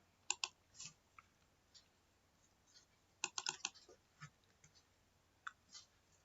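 Keyboard typing on a computer while a Java program is written in a classroom lesson, heard as scattered short bursts of quiet clicks with pauses between them, faint and close.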